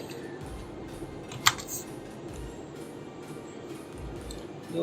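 Soft computer keyboard typing clicks sound faintly under a low background hum, with one sharper tap standing out, close and quiet.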